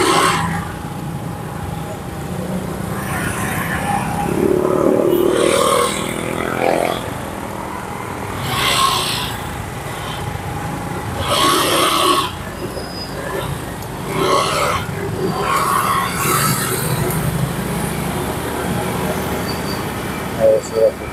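A vehicle drives along a road at night in Gowa and then turns, its engine and tyre noise rising and falling as a steady rumble beneath continuous speech.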